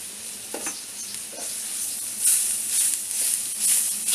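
Fresh grated coconut roasting with onion in a pan for a Malvani stuffed-egg masala, giving a steady soft sizzle with a few brief scraping stirs, rising slightly louder toward the end.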